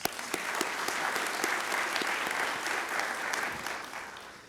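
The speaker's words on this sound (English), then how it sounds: "Give her a round of applause" Audience applause at a police chief swearing-in ceremony, a steady dense clapping that holds at an even level for the whole stretch, with a few sharper individual claps standing out near the front.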